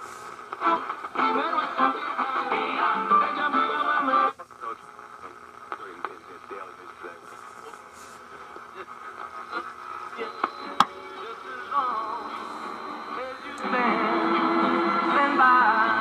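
A restored Crosley 158 chassis radio, its speaker muffled with cardboard, plays a broadcast heavy with static and hiss, the reception dropping to faint crackle midway before the signal returns.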